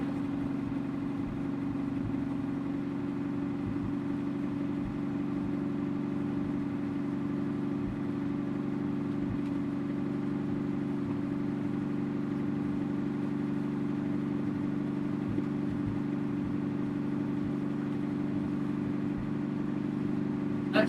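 A 1949 Studebaker engine runs in second gear, a steady low hum that holds at an even pitch and level throughout, heard up close.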